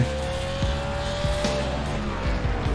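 Race car engine and tires in the iRacing sim racing game: a steady, close engine drone with a faint tire scrub, running alone without any talking.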